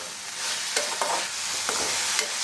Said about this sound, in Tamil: தேங்காய் சேர்த்து ஒரு 1 நிமிஷம் போல் வதக்கிக்கலாம்